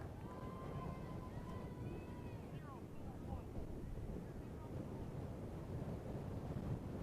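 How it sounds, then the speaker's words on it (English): Strong wind buffets the microphone at an outdoor high school softball game, a low, rumbling roar throughout, and faint whistling tones drift through early on. "Wind is absolutely fierce and has picked up more now."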